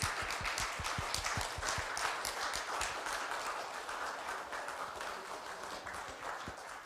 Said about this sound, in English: why don't you give another big round of applause?